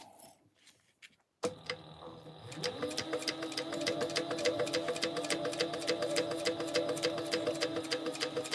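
Sewing machine top stitching a clear TPU vinyl backpack, starting after a brief quiet pause and settling into a steady rapid ticking rhythm of needle strokes, close and moderately loud.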